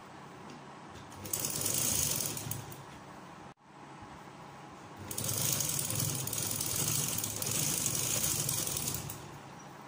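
A sewing machine runs in two steady mechanical bursts while stitching the turned-up hem of a salwar poncha, the first burst brief and the second longer, with a short pause between them and no talking.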